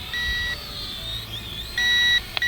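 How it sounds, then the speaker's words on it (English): A drone's handheld transmitter gives a high, thin electronic beep that repeats in steady bursts with short gaps, close and clear over faint background noise. "do have a constant beep on our transmitter"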